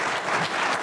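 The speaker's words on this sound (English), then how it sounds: "Please give a round of applause to the Senator." Audience at a symposium applauding for Senator Slade Gorton, a thick, continuous roar of many clapping hands heard briefly and fairly loud.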